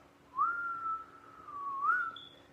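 A voice imitates the wind whistling with one drawn-out whistle that wavers in pitch, dips, then rises briefly near the end before trailing off, fairly close and alone.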